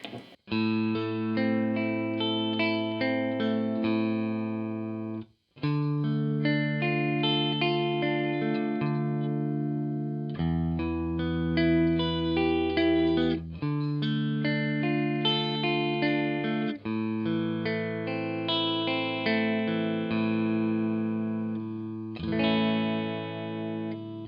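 A homemade Telecaster-style electric guitar with Alnico 3 and 52 single-coil pickups plays sustained, ringing chords and notes through an effects chain, clean-to-lightly driven with chorus and reverb, several phrases separated by brief pauses.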